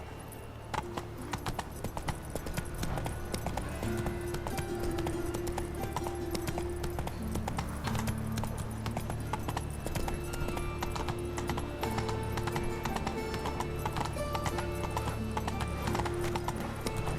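A horse gallops in the video game The Witcher 3, its rapid, steady clip-clop of hooves running throughout, close and loud, with an occasional whinny over a continuous layer of game sound.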